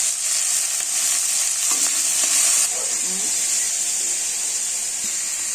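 Yardlong beans, raw banana and potato with salt and green chilli frying in a pan, a loud steady sizzle with stirring scrapes partway through and no voices.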